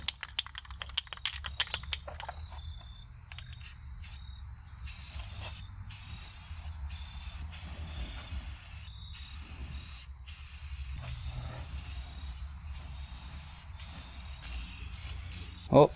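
Short bursts of spray paint hit a PC case glass panel outdoors. The soft hiss starts and stops in uneven spurts, fairly close and alone.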